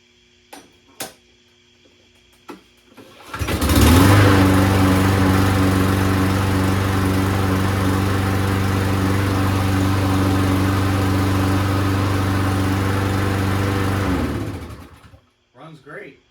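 Repaired walk-behind lawn mower with new wheels, fresh air filter and an oil change starts up after a couple of clicks and runs steadily at a loud, close, even idle for about ten seconds before shutting off.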